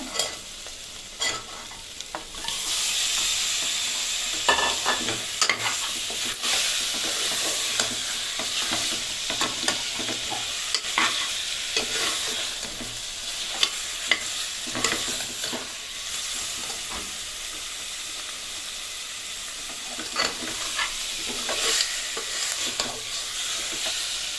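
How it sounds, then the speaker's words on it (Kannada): Chicken for a Salem-style chicken curry sizzles in hot oil while a utensil scrapes and stirs the pan in frequent irregular strokes; no talking. "ಈಗ ನಾವು ಚಿಕನ್ ಹಾಕಿ ಫ್ರೈ ಮಾಡೋಣ."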